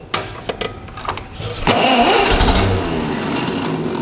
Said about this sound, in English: Love that old starter motor.